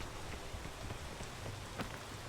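Rain patters steadily on surfaces in a video game, a soft, even hiss with scattered faint drop ticks and no voices.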